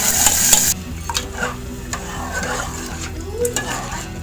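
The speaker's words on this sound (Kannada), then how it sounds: "ಒಗ್ಗರಣೆ ಹಾಕ್ತೇನೆ. ಇದಕ್ಕೆ ಜೀರಿಗೆ, ಗೋಡಂಬಿ, ಹಸಿಮೆಣಸು." Cumin seeds, cashews and green chillies sizzling in hot oil for a tempering, a loud close crackle at first that settles into a steady sizzle with spoon stirring scrapes, no voices.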